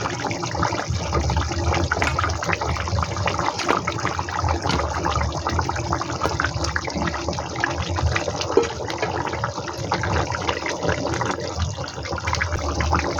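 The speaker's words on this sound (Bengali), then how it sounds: "এবার পরিমাণ মতো জলটা দিয়ে দেবো" Water is poured in a continuous stream into a Bengali rui fish curry, a thin jhol with potatoes and taro. The gushing, splashing flow stays close and steady the whole time, with no speech.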